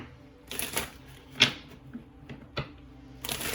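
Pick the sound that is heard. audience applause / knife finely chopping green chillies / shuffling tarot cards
shuffling tarot cards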